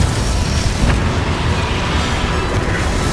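The Confringo spell explodes in Hogwarts Legacy, producing a loud, continuous, rumbling blast that fills the whole stretch without any talk.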